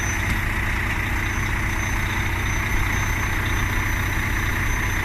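A heavy truck engine idles steadily during an exhaust system check, a constant low rumble with a droning hum, close by and unchanging, with no talking.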